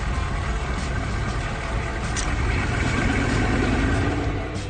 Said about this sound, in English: Open box bed is lowered.